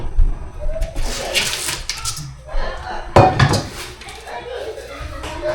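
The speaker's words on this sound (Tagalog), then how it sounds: "Hugasan ko lang muna itong ating mga plato." Plates being washed, with ceramic dishes and cutlery clinking and clattering close by amid running water, in loud irregular bursts, while a voice talks in the background.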